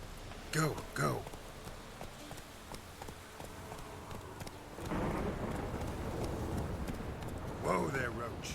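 Hooves of the horse Roach galloping through rain in The Witcher 3, a rhythmic clip-clop under steady rainfall, with brief voice-like bursts near the start and end and a louder rush of sound in the second half.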